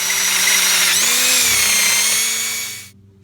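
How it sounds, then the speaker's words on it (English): A power drill whines steadily as it bores out a hole in a metal corner brace for a vintage VW fuel filter bracket, pitch dipping briefly under load, then stopping abruptly. "on our corner brace, we're just got to drill one of these end ones out to 5/16 or 8mm"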